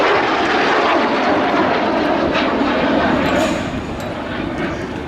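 A Mikoyan Gurevich MiG-15UTI jet flies at the Duxford Air Festival 2017, a loud, broad roar that stays strong and steady before easing slightly as it passes.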